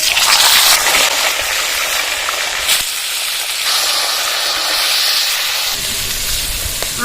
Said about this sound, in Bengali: শিমগুলো আস্তে আস্তে করে কেটে নিয়েছি এবার তেলে দিয়ে দেবো